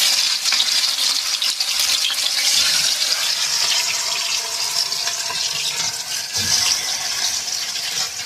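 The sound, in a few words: chicken pakora frying in hot oil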